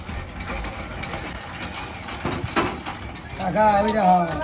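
A small boat's engine, just repaired after breaking down in the middle of a haor wetland, clatters mechanically, then rises into a steadier running note near the end, with people talking over it throughout.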